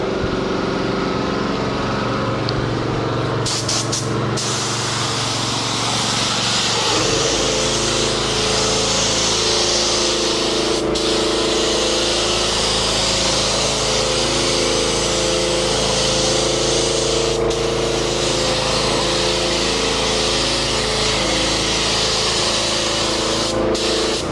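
Automotive metallic paint is sprayed onto a car as a full wet coat, a loud continuous spray hiss under a steady engine-like compressor drone, with a few brief interruptions early on.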